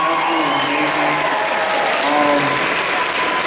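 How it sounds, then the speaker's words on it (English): An audience at the Saboten-Con 2022 masquerade applauds the contestants, a loud, steady wash of many hands clapping that carries through the whole stretch, with cheers and voices rising over it. "one big round of applause for all the contestants"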